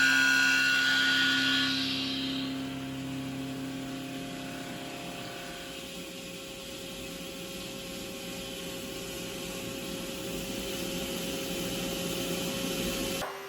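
A CNC machine surfaces the top of the lug on a spool for a Tesla Model 3 motor, giving a steady, fairly loud whirring machining drone with faint tonal whines that holds throughout, with no talk.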